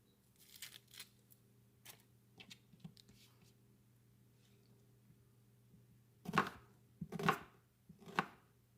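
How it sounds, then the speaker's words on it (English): A knife dices an onion on a cutting board, a few scattered taps early on, then three loud, close chopping strikes near the end, with a steady low hum underneath. "So we are just going to dice this onion up."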